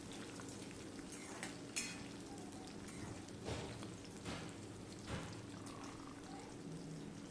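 Green chilies and sautéed onions fry in a pan, giving a steady low sizzle throughout with a few brief scraping stirs and soft clatters.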